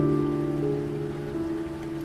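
Steady rain sound effect in a Hindi horror story, a continuous, moderately quiet wash of falling rain with a low droning tone beneath and no talk.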